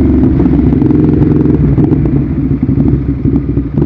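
A Ducati Hyperstrada 821 sport-touring motorcycle rumbles steadily through a corner, its loud, close engine note droning throughout with clattery mechanical texture and slight fluctuations in throttle.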